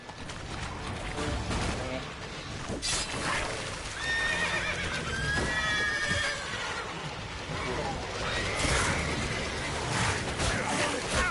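Roach the horse from The Witcher 3 whinnies several times over steady galloping hooves, with game noise and gunfire-like bursts mixed in, close and continuous.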